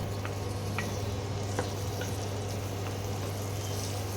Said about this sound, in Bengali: এবারে আমি এই মাখনের মধ্যে টমেটোর কুচি দিয়ে দিলাম